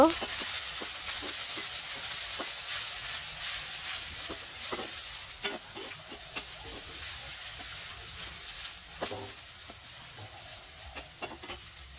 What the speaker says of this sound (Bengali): এবার আমি পেঁয়াজ কুচিটাকে ভেজে বেরেস্তা বানিয়ে নিব